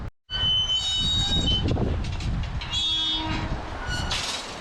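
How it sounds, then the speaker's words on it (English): An old iron gate in the Scottish countryside creaks and squeals with high metallic groans, close by, over a rushing background of cold spring wind. "I love the sound of those old iron gates."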